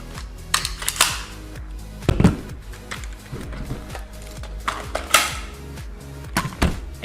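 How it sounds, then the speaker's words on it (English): Metal clicks and clatters of a magazine being seated into a prop pistol on a film set, several sharp handling knocks spread across the clip, close and moderately loud, with no talking. "go ahead and insert one magazine into your movie prop gun."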